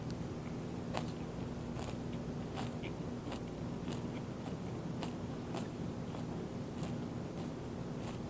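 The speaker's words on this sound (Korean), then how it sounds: "먹어보겠습니다." Someone chews a lettuce wrap of crispy bulgogi, making soft, irregular crunchy bites close by that stay faint over a steady background hum.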